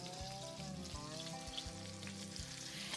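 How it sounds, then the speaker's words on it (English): Two pounds of ground beef frying in butter in a pot, a steady close sizzle with soft crackling throughout and occasional low thuds, with no talking. "I'll add in 2 pounds of ground beef."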